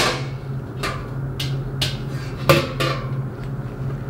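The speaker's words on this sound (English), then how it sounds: "Then we're gonna remove the lid." Metal clanks and taps ring out as the lid is worked off a cone-bottom storage and mixing tank, several sharp separate knocks over about four seconds, close by with no talk.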